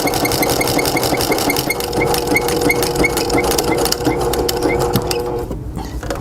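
A sewing machine stitches fabric for a small coupon wallet pouch in a fast, rhythmic whirring run, loud and close, breaking off briefly near the end.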